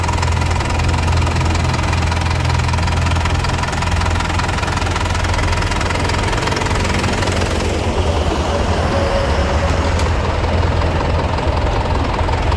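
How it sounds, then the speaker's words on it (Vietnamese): A 2004 Isuzu Hi-Lander 2.5 turbo diesel with automatic gearbox idles steadily up close, a continuous low rumble with a clattery diesel knock that stays even throughout, with no talking. "máy nổ giòn, máy móc khô ráo sạch sẽ"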